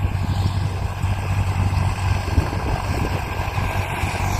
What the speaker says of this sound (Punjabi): ਇਹ ਆਉਂਦਾ ਟਰੈਕਟਰ